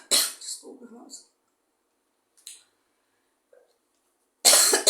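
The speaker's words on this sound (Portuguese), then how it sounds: "Esta tosse não é fácil." A person coughs repeatedly in harsh, close bursts separated by short pauses, with a final loud cough at the end.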